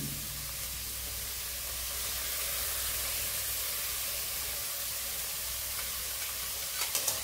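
Thinly sliced carrots frying in a pan, a loud continuous hissing sizzle that holds steady, with a couple of light utensil taps near the end.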